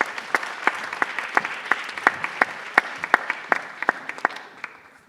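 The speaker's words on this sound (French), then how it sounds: "Je vous demande de l'applaudir chaleureusement." Applause at a startup pitch event as a presenter is introduced: a small audience clapping in crisp, regular individual claps, near and fairly loud, keeping a steady rhythm for about five seconds before fading, with no talk.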